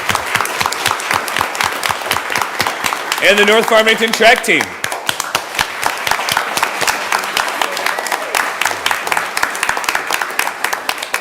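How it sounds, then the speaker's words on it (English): Applause from an audience at a school board of education meeting, honoring student athletes of a track team. Clapping sounds through the whole stretch under someone speaking over a microphone, with a brief tonal burst partway through. "let's give him a round of applause for his accomplishments too"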